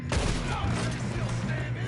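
Gunfire in the Red Dead Redemption 2 video game, a loud, dense wash of shots and booming reports heard up close, sustained throughout without a clear break.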